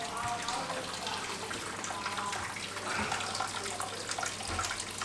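Water runs steadily from a tap into a tub while filling a tank for a reef aquarium, a continuous close splashing rush with no pauses.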